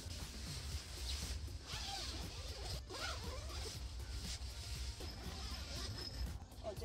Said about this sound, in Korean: 침낭 지퍼를 닫았어요